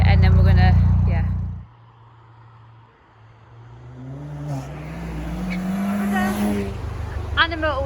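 A Ford Fiesta ST fitted with a twin-exit RS-style exhaust fires up with a loud burst, then settles into a steady idle under a motorway bridge while people talk over it, revving slightly near the end.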